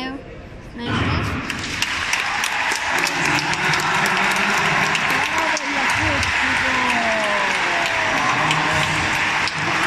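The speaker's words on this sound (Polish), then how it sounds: "Brawa." A large stadium crowd applauds steadily at the 2018 European Athletics Championships in Berlin during a men's hammer throw event. The applause is loud, dense and sustained throughout, with people talking nearby.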